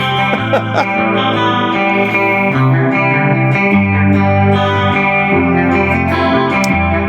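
Electric guitar played through a Spark 2 practice amp with reverb, a continuous chorused, lightly distorted melodic line of sustained notes and chords, loud and close, no talking over it.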